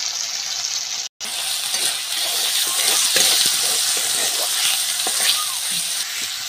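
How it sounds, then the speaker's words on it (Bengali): Turmeric and chili powder masala frying in hot oil gives a steady, loud sizzle and hiss, with scattered spoon scrapes and clicks as it is stirred, broken by a brief dropout of near silence. "মশলাটাকে আমি ভালোভাবে কষিয়ে নেব"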